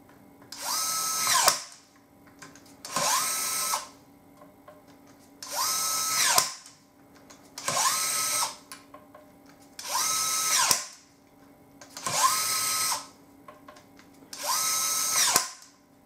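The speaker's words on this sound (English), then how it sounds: "Now I'm going to go through a few rundowns and just watch the reaction on my wrist as the screwdriver reaches torque." Kolver electric screwdriver drives screws down to torque in seven evenly spaced bursts, each a close whining motor rundown of about a second and a half ending in a sharp click as it reaches torque.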